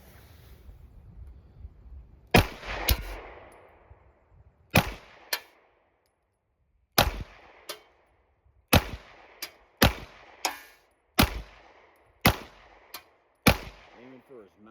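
A Taurus GX2 9mm pistol fires at an outdoor range, about a dozen sharp, loud shots in irregular bursts with short gaps between them and faint ambient noise underneath.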